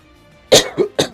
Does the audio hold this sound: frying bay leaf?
no